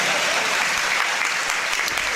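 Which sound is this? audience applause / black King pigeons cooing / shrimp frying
audience applause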